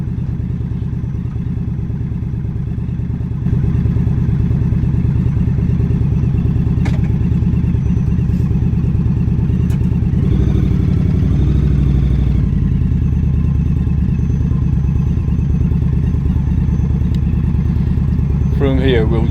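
Motorcycles rumble at close range on the ride to a funeral, a steady low engine drone with throttle changes and clatter partway through. It runs continuously under a loud, even bed of engine noise.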